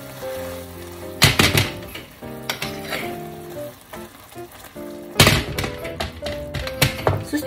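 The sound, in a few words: onion steak frying in butter soy sauce, pan shaken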